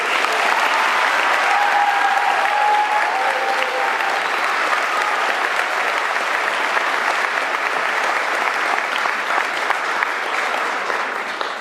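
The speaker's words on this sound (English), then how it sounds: "One more round of applause while I gather myself." A crowd at a junior high school promotion ceremony applauds loudly and continuously, a dense wash of clapping that holds steady for several seconds before easing slightly at the end.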